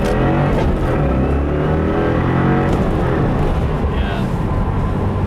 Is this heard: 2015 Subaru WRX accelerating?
yes